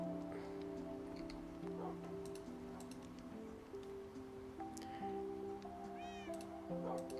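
A cat meows a few times, faint against steady background music.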